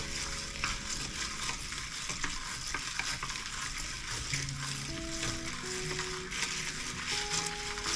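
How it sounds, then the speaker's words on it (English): A straw stirs a mint julep of bourbon and ice, giving a steady crackling, fizzy rattle of ice against the glass that runs unbroken and close by throughout. "I'm just gonna use my straw to stir it."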